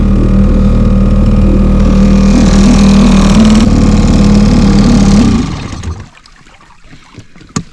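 A small fishing boat's outboard motor runs loud and steady at close range, its engine drone holding for about five seconds before cutting out, leaving quiet water and faint handling noises.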